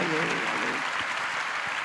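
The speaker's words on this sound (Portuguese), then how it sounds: "Vamos aplaudir o Senhor pelo que Ele tem feito nessas nações." A church congregation claps together in a steady, dense wash of applause that fills the whole moment, with a few voices mixed in.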